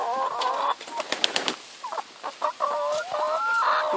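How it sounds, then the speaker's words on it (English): Several chickens cluck and squawk in a busy, overlapping chatter, with short sharp calls and a few quieter gaps, close by. "They're mean chickens."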